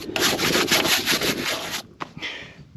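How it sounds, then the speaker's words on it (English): A wire brush scrubs loose surface rust off corrugated iron in rapid, harsh back-and-forth strokes for nearly two seconds, then pauses before a couple of shorter, fainter scrapes. "get all the really loose surface rust off with a wire brush"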